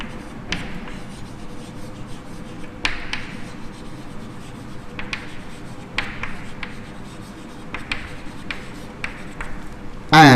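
Chalk or marker scratching and tapping across a board as an equation is written during a chemistry lecture, a steady run of short strokes and taps at moderate level with no talking over it.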